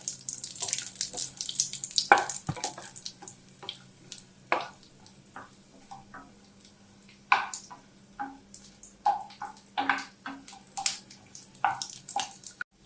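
Cashews fry in ghee with a little oil, giving a soft crackling sizzle broken by irregular spoon taps and clinks against the pan, close and moderately loud.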